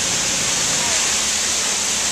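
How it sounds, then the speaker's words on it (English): A 151-metre waterfall at Milford Sound in Fiordland roars as a dense, steady rush of falling water, loud and unbroken for the whole stretch. "the waterfall is 151 metres in height, about 500 feet"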